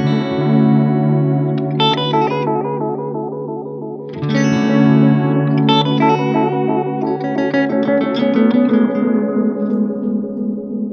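Guitar through a Strymon El Capistan tape delay pedal pushed to its limit, loud picked notes and chords smeared into long, wobbly repeating echoes that stack and trail off, with no voices.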